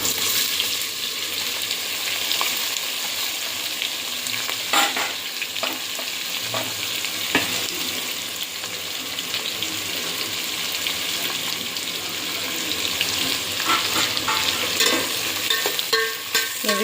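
Onions fry in hot oil with whole garam masala, a continuous close sizzle broken by repeated scraping and clatter of stirring against the pan over a long stretch.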